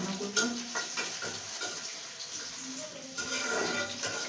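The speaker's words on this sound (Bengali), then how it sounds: "কাঁচামরিচ দিয়ে একটু ভাজা করে নেব।" Green chilies frying in a pan for a fish-roe dish, a soft steady sizzle with occasional clinks and stirring scrapes of a utensil against the pan, fairly close and moderately quiet.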